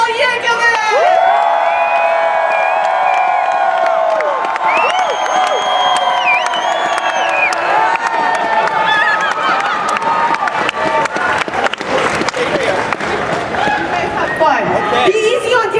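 An audience at a Weird Al Yankovic panel cheers, whoops and applauds loudly and continuously, a dense crowd roar with whistles and claps that grows more percussive toward the end.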